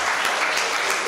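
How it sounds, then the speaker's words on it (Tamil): Hall audience at a Tamil literary debate clapping together, a dense, steady burst of hand claps filling the room, heard alone without speech. "நல்லா கைதட்டு பார்ப்போம்."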